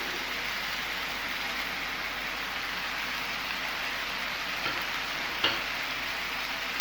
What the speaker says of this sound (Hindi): मज़ीद 2 मिनट के लिए हम इसको फ्राई करेंगे अपने स्पाइसेस के साथ